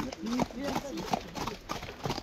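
Horses walking on a trail, their hooves clip-clopping steadily close by while people talk over them.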